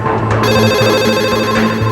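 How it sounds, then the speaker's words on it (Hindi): A telephone rings loudly and close by in a Hindi crime TV drama, with a steady electronic ring pattern that repeats without pause and no voices. "हमारी फोन लाइन रुकने का नाम नहीं ले रही थी।"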